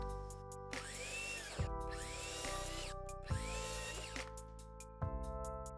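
Wooden boards cut on a table saw for a VHS shelf build: a loud, steady whining blade with several rising and falling passes as stock feeds through, and sharp thumps between cuts.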